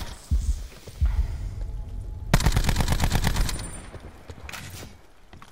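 Rapid bursts of automatic gunfire from the shooter video game Call of Duty Black Ops 4, a dense loud volley in the middle after a few scattered shots, then fading to quieter game ambience.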